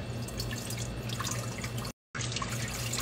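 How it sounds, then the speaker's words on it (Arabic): Water pours into a dough mixture for Jizani mu'affash bread, a steady close trickle and splash that breaks off briefly before it resumes. "أول شيء نضيف الموية."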